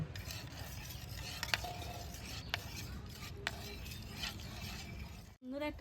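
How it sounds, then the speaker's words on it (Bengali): A spoon stirs a slice of lemon into hot water, with a steady hiss and several light clinks against the vessel, then a brief squeaky swirl near the end; no talking. "আবারও আমি ভালো করে জলের সঙ্গে এইভাবে মিশিয়ে নেব"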